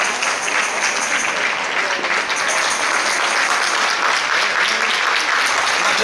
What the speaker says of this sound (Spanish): Un aplauso más fuerte para nuestra animadora estrella.